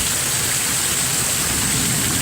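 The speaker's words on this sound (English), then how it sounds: "You can see the rain going." Heavy rain from a severe thunderstorm roars in a steady, dense wash of hiss throughout, loud and unbroken, with no voices.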